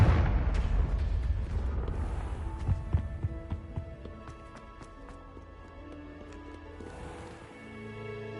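A Confringo blasting spell erupts in Hogwarts Legacy with a loud, booming explosion at the start, followed by scattered crackling impacts and debris that fade over several seconds.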